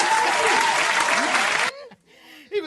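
Applause added as an effect on a rap line, a burst of crowd clapping that cuts off abruptly, followed by a short voiced bit and faint sounds.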